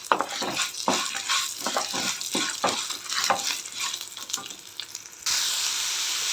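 Coriander seeds, urad dal, red chillies and ginger fry in a pan, crackling and sizzling in uneven bursts with stirring scrapes, then settle into a steady hiss toward the end.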